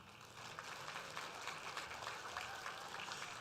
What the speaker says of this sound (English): Let's give a round of applause to our ESP judges